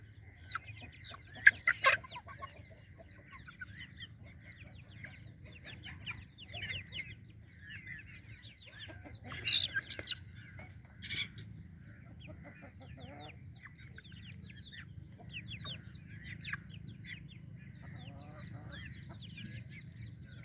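Young chicks eating fly larvae feed give soft, scattered clucks and chirps, close but quiet, coming in irregular bursts over a low background rumble.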